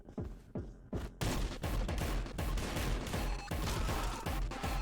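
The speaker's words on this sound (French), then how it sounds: "Ah non, on a un Uzi, c'est pas mal aussi." Rapid automatic Uzi gunfire in a shooting video game: a few separate shots, then a dense, continuous burst of loud, sharp reports filling the rest of the clip.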